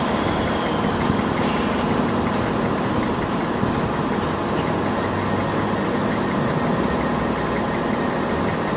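Train running on an East Anglia railway line, a loud, steady rumble with an even engine drone that holds throughout, no voices.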